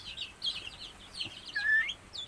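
Several soft, scattered clucks and chirps come from backyard chickens kept in hot summer weather, faint and intermittent at moderate distance, with no voices.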